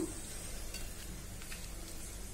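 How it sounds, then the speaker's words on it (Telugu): Garam masala and coriander powder are stirred into hot oil in a pan, giving a quiet, steady sizzle with soft scraping throughout, without any speech. "గరం మసాలా ధనియాల పొడి వేసుకుని బాగా కలిపేసుకుందాం"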